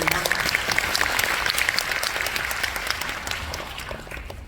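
A crowd at a corporate new-year event applauds warmly for a prepared video message, a thick, sustained clatter of many hands that stays loud and gradually eases toward the end.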